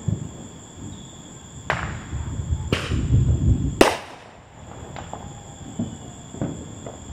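Fourth of July fireworks burst in the distance, three or four sharp cracks and booms spaced a second or so apart, with crackling and rumbling between them.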